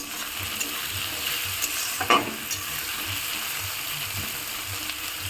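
Large-cut onions frying and being stirred in a pan for a homestyle dhaba-style tadka, a steady soft sizzle with faint scraping stirs and one brief clink, close and without talk.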